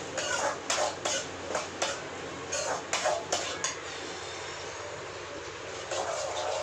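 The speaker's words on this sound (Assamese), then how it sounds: "ইয়াতে পিঁয়াজ ফ্ৰাই কৰি আছোঁ" Onions sizzle in a hot pan with a steady hiss, while sharp clinks and scrapes of a utensil against the cookware repeat irregularly through the first half.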